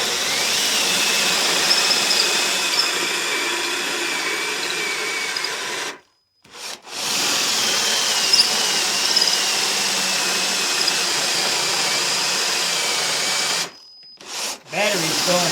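A battery drill drives a 1.75-inch hole saw into a wooden board. A steady grinding whine runs continuously, stopping briefly twice before starting again.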